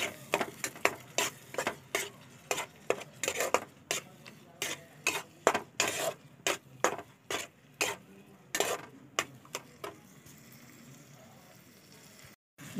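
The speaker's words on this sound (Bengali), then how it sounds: "এই পেস্টটা দিয়ে দেব। আবার ভালো করে কষিয়ে নেব।" Fish curry spice paste being stir-fried in a pan for Bengali aar fish rosha, with a spatula scraping and knocking in a steady rhythm of close, sharp strokes over a faint sizzle before going quiet.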